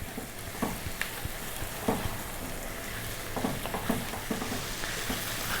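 Tomato paste and dried herbs frying for a chicken tomato sauce, a constant low sizzle with occasional soft stirring scrapes and taps in the pan, fairly quiet and close, no speech.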